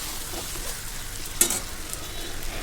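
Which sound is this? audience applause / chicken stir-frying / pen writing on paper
chicken stir-frying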